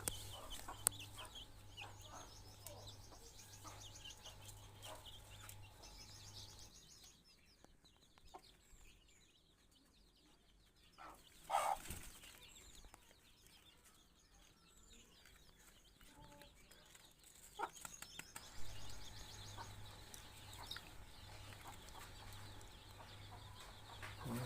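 Native deshi hens, one with a brood of 16-day-old chicks hatched from her eggs, cluck in a cage coop. The clucking is steady and close, fading briefly midway before returning, with no talk.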